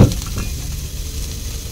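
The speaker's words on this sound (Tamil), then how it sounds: "இப்போ ரெண்டுத்தையும் நல்லா வதக்கிப்பேன்" Big and small onions sauté in a pan, giving a loud, close, steady sizzle after a brief clatter at the start.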